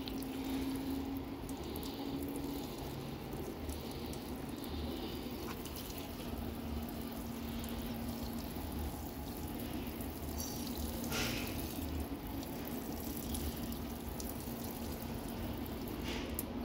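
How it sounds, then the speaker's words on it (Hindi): Water poured onto potted vegetable plants in a home garden, a soft steady trickle and splash at moderate distance, with a faint tone and light background noise. "हम इनको पानी दे देते हैं।"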